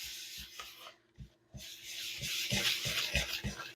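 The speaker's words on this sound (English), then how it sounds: "I'm going to mix this up with a whisk." Whisk scraping through all-purpose flour and packed brown sugar in a bowl, a steady rubbing rasp with rhythmic low taps as the whisk strikes the bowl, close and continuous after a brief pause.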